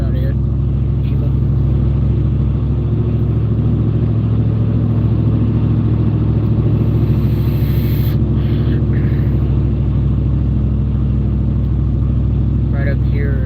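A car drives on a road near Bowling Green, Kentucky, heading into a storm, its engine a steady mid-pitched rumble with road noise throughout, heard from inside the vehicle.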